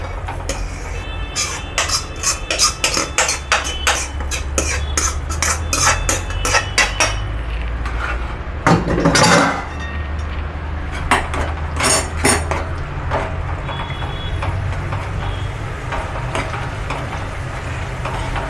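Brinjal and tomato tipped into onion gravy in a pan for Gujarati vadi nu shaak, with a long run of clattering utensil and spoon scrapes against the pan over a steady low hum, loud and close, no talking.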